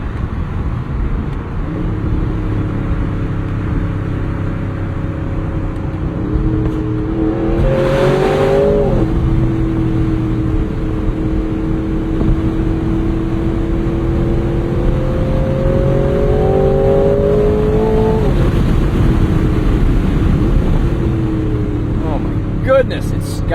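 A 2026 Aston Martin's engine drones loudly from inside the cabin, then revs and accelerates hard in two rising surges, the engine note climbing and falling back before swelling again toward the end.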